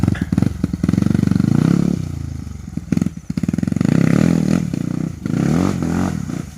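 A 125cc dirt bike with a windshield runs close by, its engine revving in repeated loud bursts with a rough, clattering two-wheeler rasp, dropping briefly between pulls.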